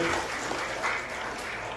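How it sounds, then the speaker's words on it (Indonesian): Dense, steady applause from a crowd for a children's elementary school choir, a wash of many hands clapping at once, fairly faint and continuous throughout. "Kita beri tepuk tangan untuk anak-anak ini luar biasa."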